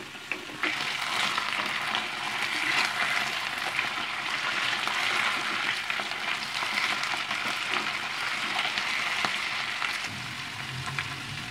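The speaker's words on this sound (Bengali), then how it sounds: "এই ওলটাকে আমি এখন উল্টো পাল্টে নেড়ে চেড়ে ব্রাউন করে ভেজে নেবো।" Yam pieces frying in hot oil, a loud, continuous close sizzle with occasional stirring scrapes, steady throughout without talk.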